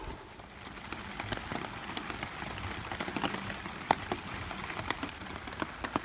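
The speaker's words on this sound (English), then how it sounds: "Yep, it's still raining." Steady rain patters down on a riverside hammock camp in Borrowdale in the Lake District, a dense even hiss broken by scattered louder drops close to the microphone.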